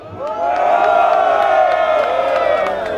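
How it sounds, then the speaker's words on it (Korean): A crowd at an outdoor political rally for democracy and intelligence-service reform cheers and whoops with scattered clapping, a loud sustained swell of many voices that rises and holds for several seconds. "뜨거운 박수로 맞아주시면 감사하겠습니다"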